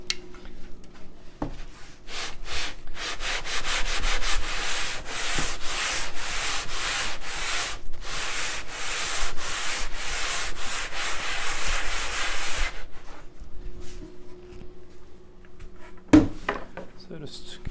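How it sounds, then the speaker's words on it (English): Rhythmic back-and-forth rasping of sanding on a radiusing dish used for shaping guitar backs, fast even strokes running for about ten seconds, close and fairly loud, with pauses and quieter handling before and after. "you just have to get rid of the gummed up areas on the sanding dish"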